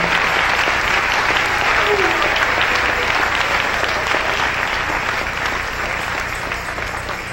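Church congregation applauds during a morning service, a loud, continuous roar of clapping with voices and cheering mixed in, holding steady throughout and easing slightly at the end.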